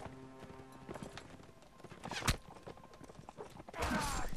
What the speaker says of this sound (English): I think they hit my horse.